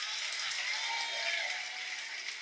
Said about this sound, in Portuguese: Pode aplaudir dando glória.